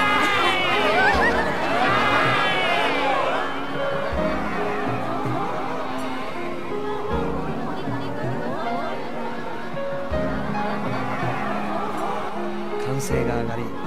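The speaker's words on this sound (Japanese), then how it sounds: "歓声が上がり人垣が割れました。" Crowd noise from a festival scene in a video game, a dense babble of many voices with rising cheers that holds steady throughout.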